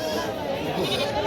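Goats bleat amid the steady hubbub of a busy crowd at a weekly goat market in Bangladesh, with overlapping voices and animal calls blending into a dense, close market din.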